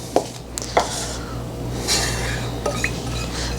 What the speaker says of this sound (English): I want to mix that up a little bit to incorporate the brown sugar and a little pinch of salt that's at the bottom of the bowl.